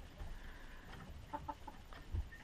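Chickens and turkeys share a village poultry run, giving off faint scattered clucks and short calls over a low, steady farmyard background.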